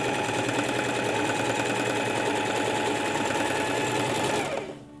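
A sewing machine fitted with a hemmer presser foot sews a hem, a loud, steady close whir running without talk before stopping abruptly near the end.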